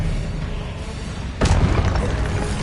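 Expelliarmus spell cast in the Hogwarts Legacy video game, a sudden booming burst about halfway through, rising over a constant background hum and then lingering as a rumbling tail.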